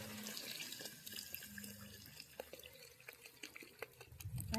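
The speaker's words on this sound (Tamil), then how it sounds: "அடுத்து இன்னும் தண்ணி ஊற்றிக்கலாம்." Water runs and splashes steadily into a metal cooking pot of fish curry, with small drips and clinks, ending in a louder gush near the close.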